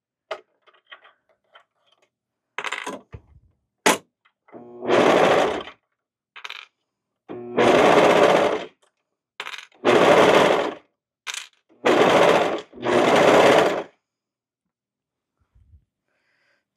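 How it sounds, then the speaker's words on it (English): Sewing machine stitching cut pieces of a cocoon cardigan together, running in several distinct bursts of rapid stitching a second or two long, separated by short pauses and small clicks of fabric handling. "And then we're going to sew those together."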